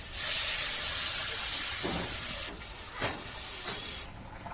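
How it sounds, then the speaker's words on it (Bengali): Water poured into sizzling, frying spice paste for a rohu fish curry sets off a loud, sustained steam hiss that gradually settles, with a few faint scrapes near the end; no voices. "মশলাটা কষিয়ে নেবো হয়ে গেছে জল দিয়ে দেবো"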